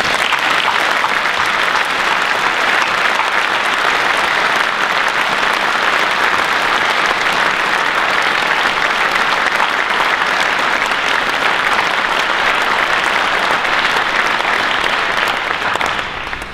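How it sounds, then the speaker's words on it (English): A graduation-ceremony audience applauds the teachers, with loud, dense, sustained clapping that fills the whole stretch without a break and tapers off only at the very end. "I'd appreciate it if we could all give them a round of applause"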